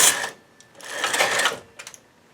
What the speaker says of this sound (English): this carriage coming over and knitting sews the hat band to the hat